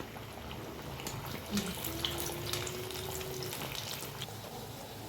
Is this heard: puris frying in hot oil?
yes